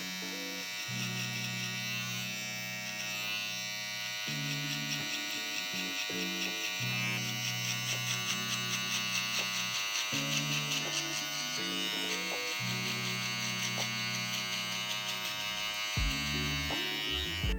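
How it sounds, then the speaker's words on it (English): Electric shaver blending and cleaning up hair below a trimmed area and behind the ear during a haircut, giving a close, steady buzzing hum that starts and stops in repeated bursts of a few seconds each. "Now I'm gonna use my shaver to blend in everything underneath that area where I use my trimmer."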